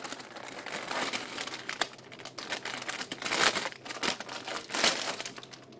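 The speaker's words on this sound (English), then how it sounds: "Padded envelope." A padded envelope crinkles and rustles up close, with sharp, irregular crackling bursts as it is handled and opened, moderately quiet and with no talking.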